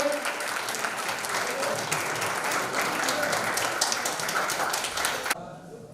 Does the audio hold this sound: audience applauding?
yes